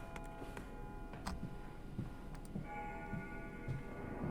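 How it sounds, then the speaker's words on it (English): Clock ticking in the horror video game Amnesia: A Machine for Pigs, a quiet, steady series of soft ticks under a low hum, with a thin sustained tone entering partway through. "I've heard those sound effects, those clock sound effects before."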